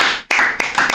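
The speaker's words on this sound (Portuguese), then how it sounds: "Eu peço à produção que aplaude" A studio audience applauds at a Portuguese-language church talk show, with bursts of clapping starting after a brief lull and carrying on briskly through the short moment.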